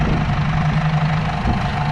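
A farm tractor idles nearby at harvest time, a steady low throbbing engine drone with a constant hum and slight knocking pulse, running alone without talk.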